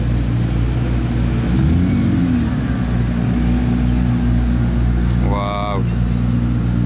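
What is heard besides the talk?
McLaren P1 supercar engine revving at Monaco Grand Prix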